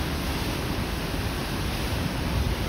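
Waterfall water rushing between rocks in a rocky river gorge, a steady broadband roar, close and continuous, with no talk.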